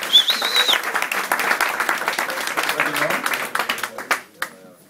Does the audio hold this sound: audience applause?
yes